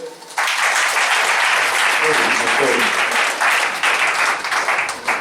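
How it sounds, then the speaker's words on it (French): A church congregation in Gabon bursts into dense, sustained clapping during a prophecy and deliverance service, starting abruptly and carrying loud and steady to the end, with voices calling out beneath it. "Acclamons le Seigneur"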